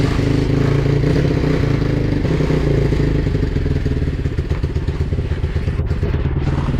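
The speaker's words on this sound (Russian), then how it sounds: "ну мопед завелся" A pit bike engine running loud and close, a steady rough mechanical drone with clattering overtones throughout and no voices.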